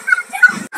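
A dachshund puppy whimpers in a rescue shelter, giving thin, high-pitched whines and a couple of short yips in quick succession, close and clear, with a faint voice in the background.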